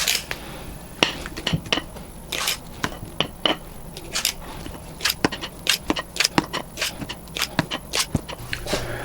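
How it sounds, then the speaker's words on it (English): Repeated clinks and taps of utensils against metal cupcake pans as vanilla cupcake batter is scooped in, irregular and close, with soft scraping between the sharper knocks. "now we're going to go ahead and start pouring the batter in"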